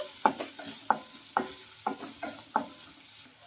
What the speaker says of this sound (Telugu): ఇవన్నీ వేసుకొని బాగా ఫ్రై చేసుకుందాం ఆనియన్ కొంచెం కలర్ చేంజ్ అయ్యే వరకు అయితే ఫ్రై చేసుకోవాలి